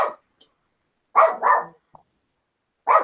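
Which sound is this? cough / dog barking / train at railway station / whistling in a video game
dog barking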